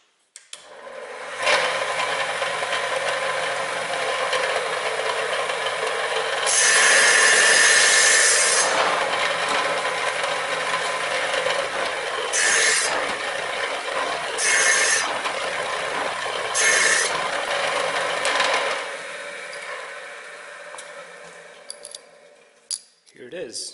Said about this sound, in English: So I'm just going to show you how I'm going to cut a couple of these PCBs.